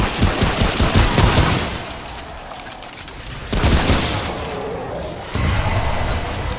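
Loud, close gunfire in the video game Remnant: rapid automatic bursts rattle almost without a break, then drop briefly before another sustained volley starts.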